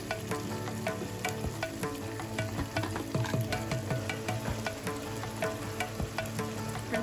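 Chicken being stirred in a pan with two spoons of salt and two spoons of chili powder, a steady close scraping and sizzling with frequent clicks of the spoon, no talking.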